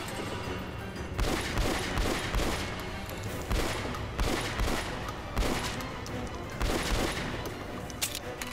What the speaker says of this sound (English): guys are just spraying like mad.